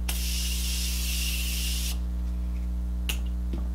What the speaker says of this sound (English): Okay, I loved the spray on that.